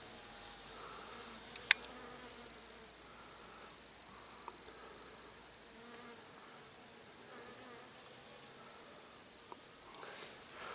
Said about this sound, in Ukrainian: А бджоли продовжують гудіти.